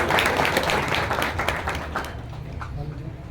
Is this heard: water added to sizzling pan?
no